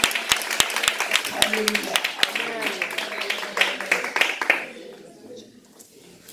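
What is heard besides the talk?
congregation applauding in church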